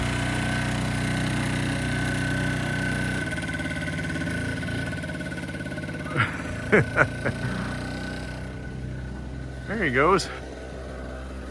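A small two-stroke engine running steadily, a buzzing drone that fades and drops away as the machine leaves, with someone speaking briefly over it.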